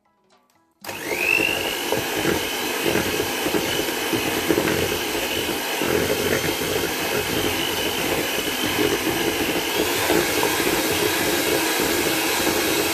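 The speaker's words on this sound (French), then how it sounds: "J'utilise le fouet électrique pour mélanger" An electric whisk whirs into cake batter in a bowl, starting abruptly and holding a loud, continuous motor drone that settles in pitch after its first second.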